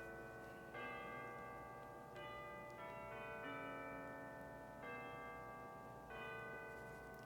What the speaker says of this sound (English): The soft sounds of the distant bells